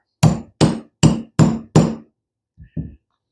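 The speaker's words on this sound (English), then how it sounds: "hammer a little more." Five sharp metallic hammer strikes on a punch in a steady rhythm, followed after a pause by two lighter taps.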